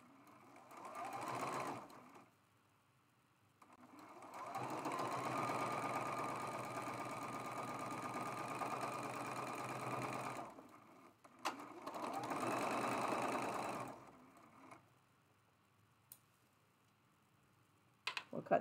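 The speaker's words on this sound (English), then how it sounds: "And we're sewing together our last unit." Sewing machine stitching together the last pieced units of a zigzag squares quilt block, running in three steady bursts of a few seconds each with short quiet pauses between, close and fairly loud, with no talking.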